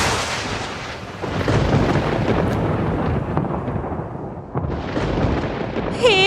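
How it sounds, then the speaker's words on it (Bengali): A loud cartoon thunderclap strikes near palm trees by a riverside path. A sharp crack gives way to a long rumbling roll that fades, and a second burst follows near the end. "পাশের তাল গাছগুলোতে একটা জোরে বাজ"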